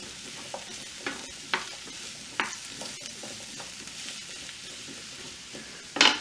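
Spring and summer squash sautéing in a pan: a constant frying sizzle under scattered sharp clatters as pieces are added and stirred, with a louder scrape near the end.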